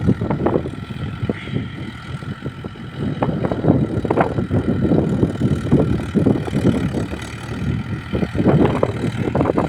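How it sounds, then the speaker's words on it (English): A new Mahindra Yuvo 475 tractor runs outdoors, its engine giving a low, rough rumble with irregular bursts while steady wind buffets the microphone across the whole stretch. "So this was a new tractor."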